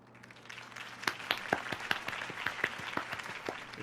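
A crowd claps steadily with sharp overlapping claps, building slightly in intensity over a few seconds, in the Batman Telltale video game.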